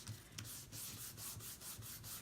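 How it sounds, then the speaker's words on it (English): Glued paper tag burnished with quick back-and-forth rubbing strokes, a close, soft rhythmic scratching at roughly four strokes per second, heard alone. "Give that a good burnish"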